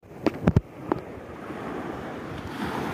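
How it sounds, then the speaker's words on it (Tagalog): Ocean waves wash steadily at sea as a boat is lowered into the water, a broad sustained surf hiss with some wind buffeting after a few brief knocks at the start. "Oh, may alon."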